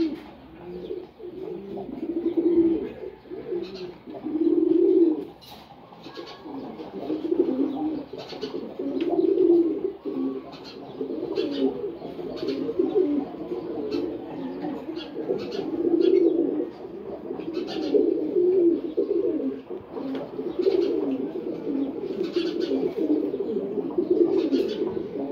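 A pair of silver gola pigeons coo in a continuous series of low, throaty rolling calls, close and fairly loud, rising and falling in bursts over a quiet room.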